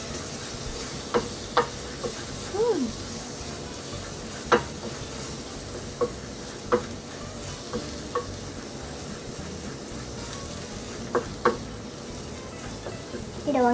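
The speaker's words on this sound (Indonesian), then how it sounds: "Terus ini ada yang rempah tadi. Terus kita aduk-aduk." Spices for soto fry in a pan, a steady close sizzle broken by repeated scraping knocks of a spoon stirring at an irregular pace.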